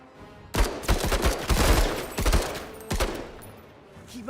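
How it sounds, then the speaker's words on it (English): Rapid bursts of autocannon fire from the video game Menace, loud and close, with clustered repeated shots across most of the stretch and a final separate burst before quieter game ambience. "Autocannon."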